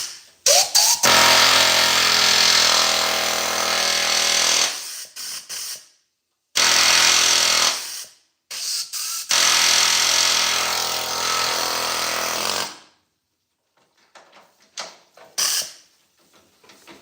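An air hammer works on a 1970 Ford F100 cab, firing in loud, sustained mechanical bursts of several seconds each, separated by short pauses, with faint scattered clatter after it stops.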